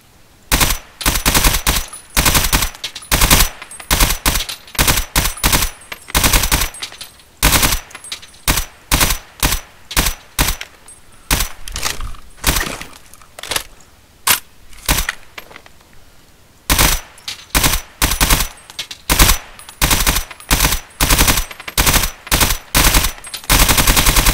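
Covering gunfire in the video game Operation Iraqi Freedom: loud, close automatic bursts rattle over and over, with short irregular pauses between volleys, running for the whole stretch.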